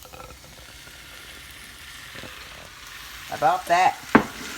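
Meat and rice sizzle and frying in a pan for Cajun dirty rice with sausage, a steady low crackle with faint stirring, and a voice speaking near the end.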